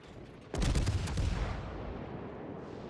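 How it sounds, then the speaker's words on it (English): Naval cruiser guns in a World of Warships battle fire shells in a sudden loud burst of rapid overlapping booms, followed by a long rumbling decay of echoing blasts. "they can fire quite a lot of shells in an amount of time"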